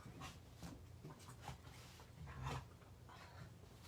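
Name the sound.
dogs barking or growling while playing indoors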